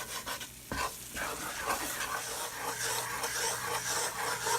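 Butter roux in a cast iron pan, stirred and scraped across the bottom: continuous gritty scraping and soft sizzle, close and moderately loud, with one sharp knock early on and no talking.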